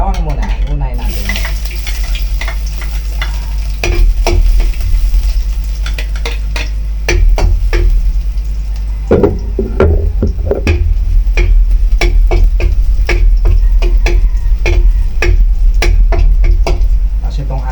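Garlic sautéing in a hot pan at the start of a Filipino pork dish, a loud steady sizzle broken by repeated sharp scrapes and clinks of a stirring utensil against the pan.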